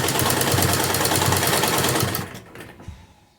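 A sewing machine runs in a steady fast rattle, stitching along the edge of a kurti sleeve, close and loud for about two seconds before slowing and stopping into quiet.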